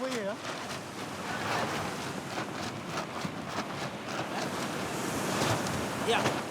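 Strong wind gusts buffet the microphone by the sea, with surf and waves rushing underneath and people talking faintly.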